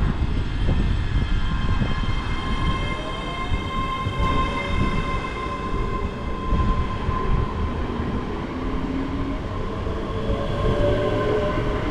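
A Class 385 train departs North Berwick station toward Edinburgh, making a loud, continuous rumble and rattle of wheels on the rails with a steady electric whine running through it.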